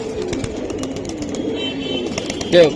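Pigeons cooing in a loft among birds kept for sale, soft low coos repeating near and far under background voices and bustle, with a brief louder flutter near the end.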